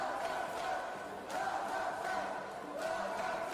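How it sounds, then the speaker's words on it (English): Arena crowd at a youth MMA world championship chants "Kazakhstan" in repeated rhythmic bursts, a fairly distant, reverberant roar rising and falling about every second and a half. "you hear the crowd, of course, screaming Kazakhstan"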